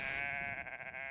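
Sheep bleat among the cliffs and meadows of Ouessant island, off the Finistère coast, in a single short, steady, strongly harmonic call heard alone at moderate volume.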